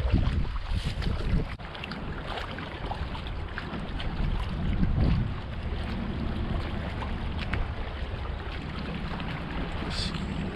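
Wind gusts against a fishing kayak out on the water, producing a loud, steady roar of buffeting noise that lasts the whole time, with faint splashes underneath.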